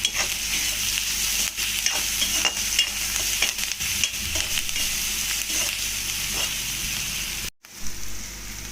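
Onions sizzle in hot oil with salt for an egg masala curry, a loud continuous frying hiss broken by frequent spatula scrapes, cutting out briefly near the end before resuming.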